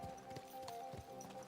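A horse's hooves clip-clop in a steady trotting rhythm while riding in Kingdom Come: Deliverance II, quiet and close over a faint background hum, with no voices.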